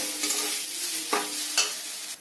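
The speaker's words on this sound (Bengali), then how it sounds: "এটা আমি তেলের মধ্যে ভালো করে ভাজা ভাজা করে নেব।" Blended ground chickpea filling for kachori fries in hot oil and gets stirred, making a close, continuous sizzle broken by a few scraping strokes, with no voices.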